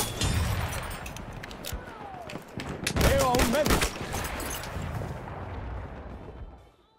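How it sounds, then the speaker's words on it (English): Heavy booming blasts from an anti-tank cannon in the video game Battlefield 1, several loud reports clustered amid battlefield noise, with a voice speaking partly over them. "With an anti-tank cannon."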